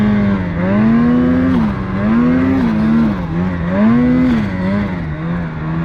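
A 2025 Ski-Doo Freeride 850cc Turbo R snowmobile engine runs loud and close on a mountain, holding a steady roar with gentle rises and dips in pitch.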